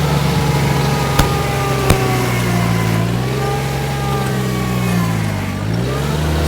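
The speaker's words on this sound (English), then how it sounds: "starting to push my tractor sideways a little bit now on the very last" A tractor in high range pushes snow with a scrape blade, its engine droning loud and steady and straining under load, with its pitch sagging and rising and a couple of sharp clanks near the start.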